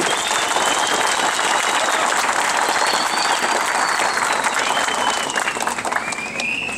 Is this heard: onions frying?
no